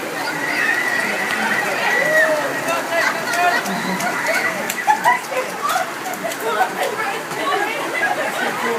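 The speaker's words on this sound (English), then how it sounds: "Sensibly avoiding the rain there." Steady English rain falls and patters outdoors, a constant hiss with scattered drips while people chat and laugh nearby.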